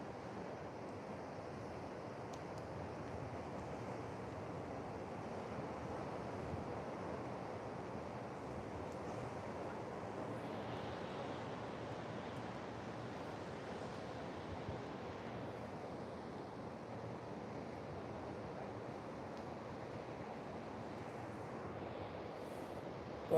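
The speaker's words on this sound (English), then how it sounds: "You can see how much the wind's blowing here with that flag." Wind blows steadily at the coast, a constant broadband rush with surf-like texture and no distinct events, moderately loud and unbroken throughout.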